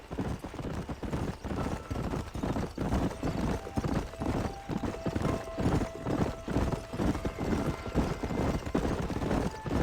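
Horses' hooves clip-clop steadily in Red Dead Redemption, a continuous rhythmic trotting with an occasional whinny, loud and close over outdoor ambience.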